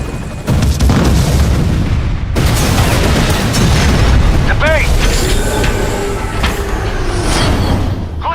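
An airstrike in Metal Gear Solid V rumbles as a continuous, loud, booming barrage of explosions with dense low roar throughout, heavy detonations stacking over one another, and a voice speaking briefly amid the chaos.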